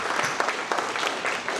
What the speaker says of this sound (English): So a round of applause for Davina.